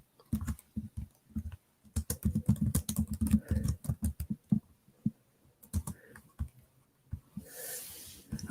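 Typing on a computer keyboard, close clicking keystrokes in quick irregular bursts separated by short pauses, loud and alone.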